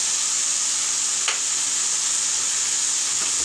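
Fried prawns and poppy seeds go into a frying pan with bottle gourd, raising a constant bright sizzle with a brief scrape of stirring, steady and close, no voices.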